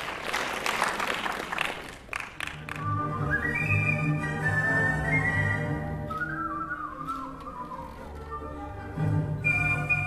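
A solo whistler performs Brahms' Hungarian Dance No. 5 at a whistling competition, the melody rising and falling in clear, sustained tones after an opening burst of audience applause and clapping, with more clapping returning near the end.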